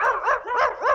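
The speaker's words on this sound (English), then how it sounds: "dog" A dog gives four quick, close, loud barks in rapid succession, sharp yipping calls with no talking over them.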